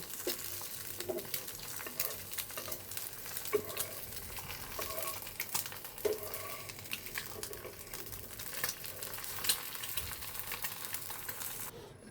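Egg posto cooks in a frying pan with a soft, continuous sizzle, broken by light scraping and stirring taps against the pan. It stays fairly quiet throughout, with no talking.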